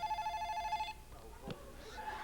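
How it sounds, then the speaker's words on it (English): A telephone rings in a steady electronic trill for about a second, then stops; faint room noise and a brief thump follow. "oh, telephone's ringing."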